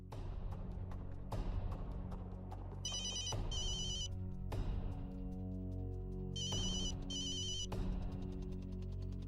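A mobile phone ringtone sounds in two bursts of rapid electronic trills, heard against a steady background of indoor drama music with no speech.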